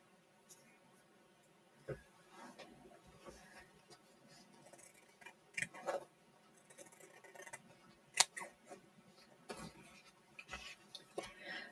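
Scissors snip quilting fabric in scattered short cuts and clicks over a faint hum, quiet and close, with no talk.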